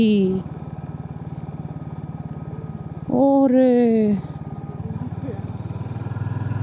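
Low steady engine drone of CNG auto-rickshaws labouring up a hill road in the Sajek hills, with a loud burst of revving and a rising horn-like tone midway, while someone talks over the sound.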